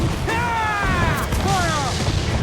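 Ship cannons boom in an Assassin's Creed 4 Black Flag naval battle, heavy low blasts rumbling under a dense game soundscape with sweeping tonal whistles overhead.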